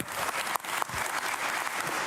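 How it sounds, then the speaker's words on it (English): An audience at a DevOpsDays Amsterdam conference applauding, a dense, steady burst of clapping filling the room for a couple of seconds. "So if we could do a round of applause for Thea instead."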